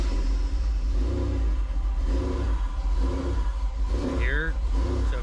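A car engine cranks, catches and settles into an unsteady idle that hunts up and down, with a hard-start condition and possible cam sensor fault, close and continuous, while someone speaks over it.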